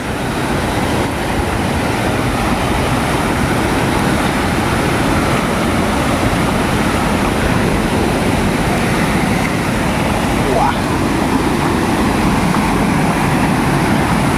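Water rushing at a dam with springs during the Konkan monsoon makes a loud, steady roar that fills the scene without a break.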